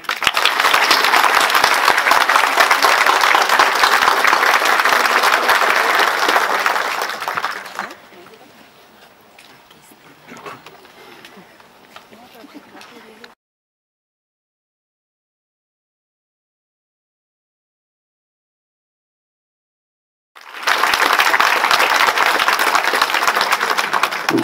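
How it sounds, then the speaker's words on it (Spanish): Crowd at a Michoacán state government event gives loud, dense applause for the governor that fades to quiet, falls silent, then returns just as strongly at the end. "Les pido, le demos un fuerte aplauso a nuestro gobernador Silvano Aureoles Conejo."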